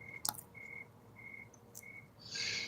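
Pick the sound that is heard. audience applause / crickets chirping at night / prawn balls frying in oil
crickets chirping at night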